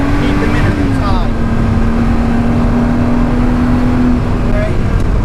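Race car engine droning steadily in second gear around Oulton Park circuit, a loud continuous in-car roar with a sustained tone that dips slightly and holds, while people talk over it.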